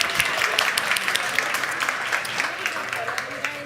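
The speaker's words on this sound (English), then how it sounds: "Let's give him a round of applause" Audience applause at a food conference session, steady dense clapping throughout with a speaking voice briefly over it.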